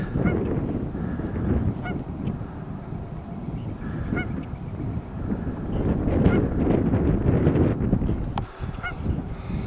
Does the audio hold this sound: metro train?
no